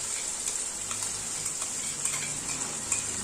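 A paste of ginger, garlic and chilli fries with lightly fried potatoes in a pan, giving a steady close sizzle with faint stirring scrapes throughout.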